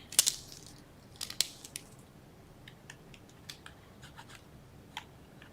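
Scissors snip through a small cardboard box in a few sharp, crisp cuts near the start, then lighter scattered clicks and rustles of the cardboard follow in a quiet room.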